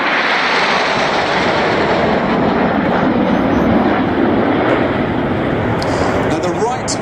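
A Eurofighter Typhoon jet flies past with a loud, sustained roar of engine noise that holds steady throughout, filling the air without letup.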